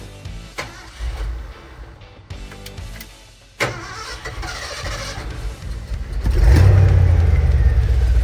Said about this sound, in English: So let's try to fire up the truck and see what happens.